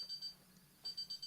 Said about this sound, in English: is your timer going off already?